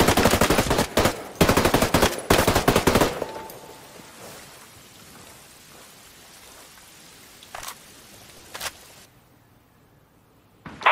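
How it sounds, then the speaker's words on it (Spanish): Rapid bursts of automatic gunfire in the video game Ghost Recon Breakpoint rattle loudly for a few seconds, then fall quiet, followed by a couple of isolated shots. "¡Oigo disparos!"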